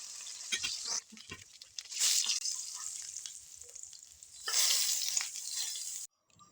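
Catfish pieces frying in hot oil, a steady bright sizzle that swells and fades in waves with a few stirring clatters, close up with no talking.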